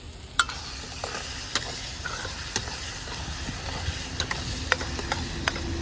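Homemade coarsely ground garam masala sizzles steadily in a hot pan for dal while a spoon scrapes and clinks against it in irregular strokes, close up.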